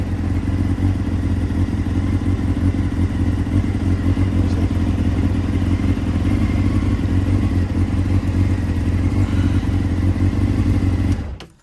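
A Honda CB600F motorcycle engine idles steadily up close, giving a loud, even, low rumble that holds for about eleven seconds before cutting off.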